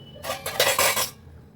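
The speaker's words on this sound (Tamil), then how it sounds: "அடுப்பில் கடாய் வச்சாச்சு" A metal kadai pan set down on a kitchen stove while making fish curry, a close bright clatter of cookware lasting about a second, with no one talking.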